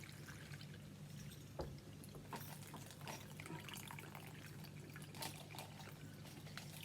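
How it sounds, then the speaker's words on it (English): Water is poured from a container into a rubber glove held open, a soft trickling and splashing fill that runs steadily with small gurgles, close and quiet, with no talk. "I'm going to pour this right in there."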